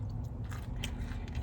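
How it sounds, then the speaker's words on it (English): Close, crunchy chewing and biting through soft rib bone and gristle at a rib shack. The mouth noise is steady, with a few sharper crunches, and no one speaks. "That's that soft rib bone you can just chew up and eat it."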